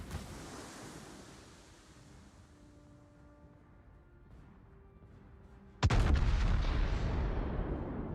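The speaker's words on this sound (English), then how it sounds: "He's shooting at the Almirante" Ambient sea and wind hum from a World of Warships naval battle, low and steady, broken near the end by a sudden loud boom of warship gunfire that rolls on heavily afterward.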